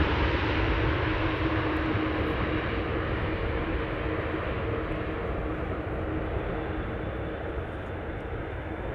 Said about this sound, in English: What a beautiful landing there.